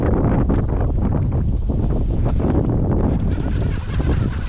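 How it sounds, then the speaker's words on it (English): Steady, loud wind buffets the microphone on a river during cold-front winter bass fishing, a continuous low roar with no talking. "we got this wind blowing like this"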